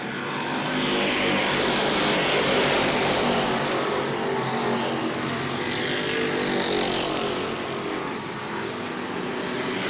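Race cars roar around the oval at New Smyrna in a continuous, loud engine drone that swells and eases slightly as the field passes.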